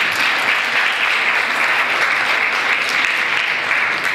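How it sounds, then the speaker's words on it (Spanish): An audience at a physical therapy presentation on children with Down syndrome breaks into loud, sustained, even applause that fills the room without pause. "Brindémosle un fuerte aplauso."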